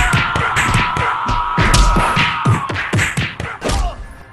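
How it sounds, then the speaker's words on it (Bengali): Sound effect of four attackers beating someone in a narrated story: a rapid, irregular series of heavy thumps and whacks lands close and loud over a steady tonal hum, with no voices. "চারজনাই দুমদাম পিটাতে লাগলো"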